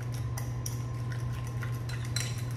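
Spoon or whisk stirring wet ingredients for banana bread cookies in a bowl, giving scattered light clinks and scrapes over a steady low hum, close up, with no talking.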